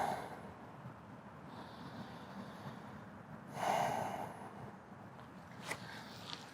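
A yoga student takes slow, deep breaths during a beginners' hamstring class, one fuller audible inhale-exhale standing out mid-way over a faint, quiet room background.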